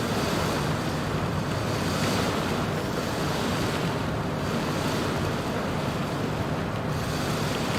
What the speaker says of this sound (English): And now we're getting 80 knot sustained winds